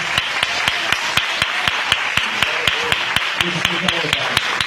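A church congregation claps in a steady, evenly spaced rhythm of sharp hand claps, loud and close, with voices murmuring underneath.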